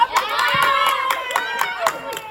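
Team players cheering each other on: several voices shouting and whooping excitedly over quick bursts of hand clapping, close and lively throughout.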